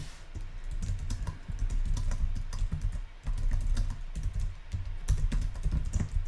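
Close, busy tapping on a computer keyboard: rapid clusters of keystrokes with brief pauses between bursts, continuing steadily with no speech.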